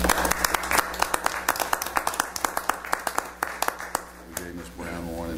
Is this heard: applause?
yes